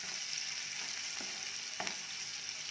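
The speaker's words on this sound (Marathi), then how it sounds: "कांद्याचा रंग बदलेपर्यंत छान भाजून घेऊया" Chopped onions salted with a pinch of salt fry in a pan with a steady soft sizzle, joined by a couple of brief stirring scrapes, close but fairly quiet.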